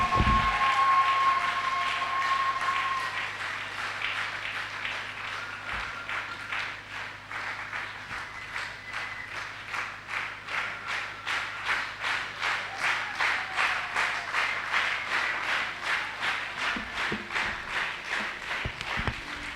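A church congregation claps in a steady, even rhythm that grows into rapid regular beats, filling the hall over a low constant hum with no voices.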